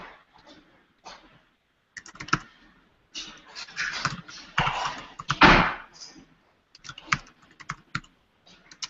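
Bursts of rapid keyboard typing, clicky and close, broken by short pauses, with brief faint movement sounds between runs.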